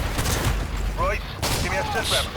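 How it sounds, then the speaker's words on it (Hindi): Bursts of gunfire in the video game Call of Duty Modern Warfare 2 crack through repeatedly, mixed with shouted game dialogue and someone talking over the action. "अंधा फायर कर रहा है, अंधा फायर।"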